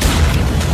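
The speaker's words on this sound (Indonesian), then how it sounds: "terjadilah ledakan besar karena itu merupakan bagian area gas berbahaya" A large explosion in a hazardous gas area of the west building at the White House comes as a loud, dense, rumbling boom that fills the whole short moment with no break.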